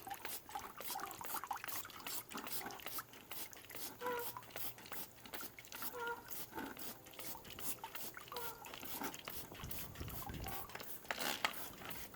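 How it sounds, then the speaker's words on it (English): Diluted Simple Green cleaning solution poured and run down the pleats of a main intake air filter, a soft close trickle and patter of dripping liquid with irregular splashes throughout, no voices. "we're going to run it down all the pleats and let that soak in for a couple minutes"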